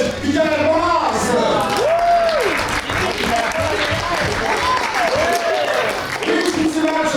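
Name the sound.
audience applause at an improv show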